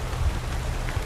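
A heavy rain downpour hisses in a dense, steady wash of drops, with a few low thuds, close and continuous.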